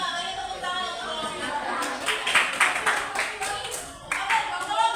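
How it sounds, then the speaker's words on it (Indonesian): A class of students claps for group 5 in a classroom, a dense, close patter of many hands that swells in the middle, with a voice mixed in underneath. "Beri tepuk tangan untuk kelompok"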